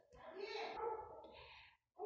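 A dog gives a drawn-out, whining bark up close, followed by a shorter yelp, with a voice heard around it.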